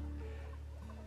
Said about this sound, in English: now I get these yard birds to help me clean it up